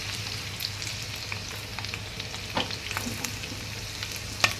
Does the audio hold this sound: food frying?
yes